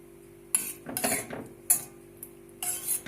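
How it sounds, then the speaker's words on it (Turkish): Metal utensils scrape and clink against a pot in several short bursts, with thick tomato paste being scooped and dropped in. "Domates salçamı tenceremin içine boşaltıyorum ve ocağımın altını yakıyorum"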